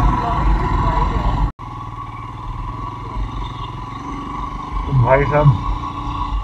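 Motorcycle ride along a narrow, muddy mountain road toward Hattu Peak near Chitkul, with a steady close engine drone and wind under talk, a brief dropout, and a short rising rev near the end.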